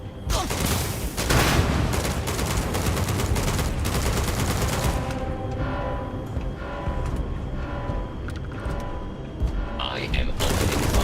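Sustained gunfire in the video game Starfield: rapid automatic volleys hammering for about five seconds, then a lull with sparser shots, a robotic voice and a steady hum, before a final loud burst.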